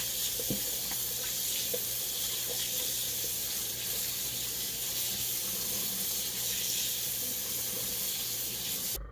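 Beef short ribs are rinsed under a steady stream of tap water in a kitchen sink, giving a continuous close hiss and splash with faint handling knocks and no talking.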